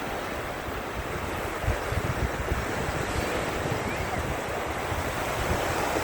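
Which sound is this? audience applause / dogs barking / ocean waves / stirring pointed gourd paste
ocean waves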